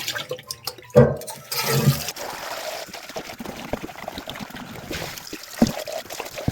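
Water runs and splashes nearby in uneven bursts, with a louder gush near the start and a steady trickle continuing after.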